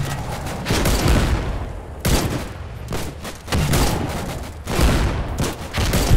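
Gunfire in the war game Foxhole: heavy, booming shots land roughly once a second, each a loud crack with a long rumbling tail, several in close succession with no talk.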